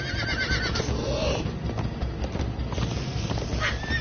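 Rhythmic clip-clop of horse hooves in a video game, steady and fairly loud throughout under a dense game soundtrack, with no talk over it.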